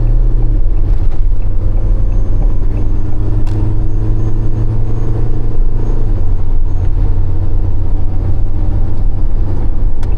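Loaded Iveco Daily 7.2-tonne van carrying about a tonne, accelerating hard at full throttle in eco mode, a loud steady engine drone and road rumble heard from inside the cab, with no talk.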